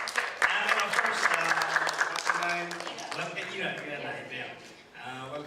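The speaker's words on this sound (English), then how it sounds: "A clap for Norvic Hospital also." An audience claps for Norvic International Hospital at a mental health advocacy event in Nepal, with steady crowd applause running under a speaker's amplified talking.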